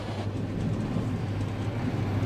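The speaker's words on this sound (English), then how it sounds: "we picked up the slow train to Mashhad" A slow passenger train bound for Mashhad, Iran, rumbles along in a steady, continuous low drone from inside the carriage, with no clear breaks or voices.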